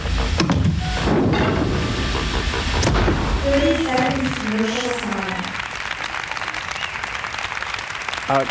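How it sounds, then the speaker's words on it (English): Applause sound effect dropped into a comedy show: a steady wash of clapping from a crowd, loud and continuous at first, with a brief tonal sound over it midway, then fading away toward the end. "Cambot, you don't have to put applause in now"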